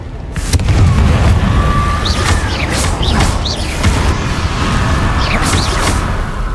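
A Confringo spell explosion in the video game Hogwarts Legacy: a loud booming blast with crackling bursts and whooshing magical effects, dense and continuous, with a voice speaking briefly.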